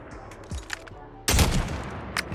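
Gunfire from a sniper rifle in the mobile shooter Call of Duty Mobile: a sharp close shot bursts out midway with a ringing tail, with smaller clicks and faint game effects before it and another brief report near the end.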